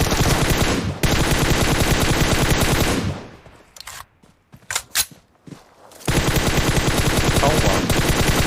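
Rapid automatic gunfire from PUBG Mobile during a trio-versus-squad match, loud bursts filling the start and end with a quieter gap of scattered single shots in the middle.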